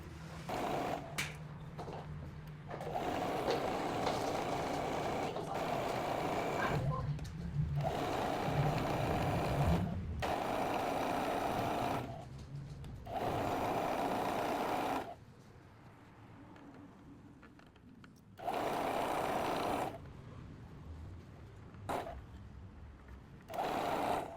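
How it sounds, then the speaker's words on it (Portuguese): A sewing machine closes a trouser inseam in repeated runs of steady whirring stitching, some longer and some brief, separated by quiet pauses, close and fairly loud. "Agora a gente vai lá pra máquina fechar toda essa parte do entrepernas"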